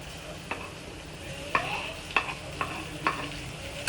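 Tomato and golden-fried onions stirred in a frying pot, several distinct spoon scrapes and clinks against the metal spaced about half a second apart over a steady low sizzle, close and clear.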